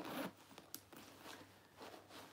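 A zipper on an all-leather tote bag is drawn in several quick rasping strokes, close and quiet, with short pauses between pulls.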